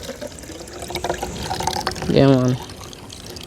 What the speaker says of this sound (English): And then me pour them out in the bucket.